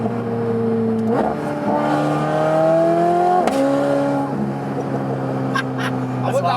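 A supercar's exhaust drones as the throttle is played with the rear window down, a steady tone rising and dropping in pitch with each blip. A voice talks over it throughout.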